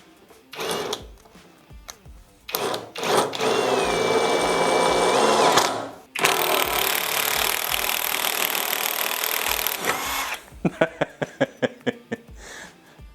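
A cordless power drill from a four-piece battery tool set drives a screw through wood, its motor whining loud and continuous for several seconds, cutting out, then giving a series of short sharp bursts at the end.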